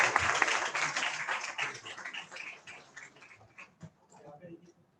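Audience at a university honour ceremony clapping, the applause loud at first and then thinning into scattered claps, with a voice speaking over it throughout.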